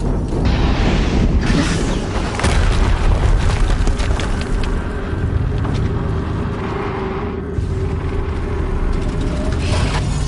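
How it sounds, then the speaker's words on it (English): Heavy rumbling explosions in a sci-fi video game, with loud booming blasts and a sustained roaring low-end rumble that swells and fades over several seconds. "Another explosion."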